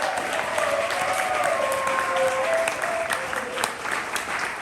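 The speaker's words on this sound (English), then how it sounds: "Applause for the poet." Steady, dense applause from a crowd at a poetry slam fills the whole stretch, with scattered whoops and cheers rising over the clapping.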